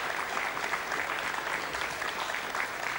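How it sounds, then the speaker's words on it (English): Applause breaking out in a mission control room at payload separation during the 1998 Ariane V110 rocket launch carrying PAS 7: steady, dense clapping from a crowd, held at an even level throughout. "You can hear the applause, I'm sure"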